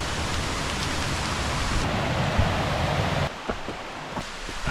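Steady rushing water from the Raven Cliff waterfall along a forest trail, a dense broadband roar close by that dips slightly partway through, with no talk over it.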